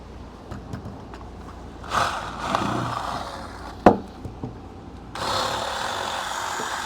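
A power drill whirs in short bursts while working on a small skiff, then runs steadily near the end, with scattered clicks and knocks between.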